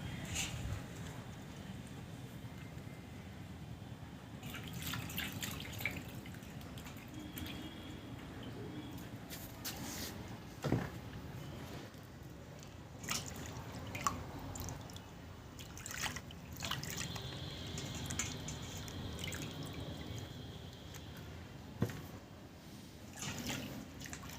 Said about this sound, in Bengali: জলের মধ্যে আলতো আলতোভাবে ধুয়ে নেব